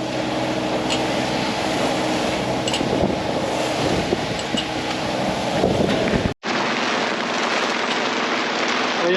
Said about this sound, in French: Il y a toujours du vent